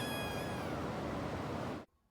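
A cat gives one long, drawn-out meow, loud and close, holding a clear wavering pitch for nearly two seconds before cutting off abruptly into near silence.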